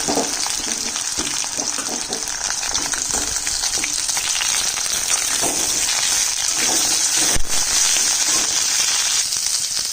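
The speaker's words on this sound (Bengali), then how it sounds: "আলুটা ভাজা হয়ে গেছে, এর মধ্যে বেগুনটা দিয়ে দিচ্ছি।" Potato and eggplant fry in oil in a pan for a vegetarian greens dish, giving a steady, loud, close sizzle with crackling pops that runs without a break and has no voices over it.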